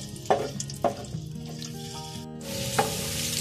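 Onions frying in a cup of oil in a pot, giving a steady sizzle with a few sharp clinks and scrapes of stirring near the start and end.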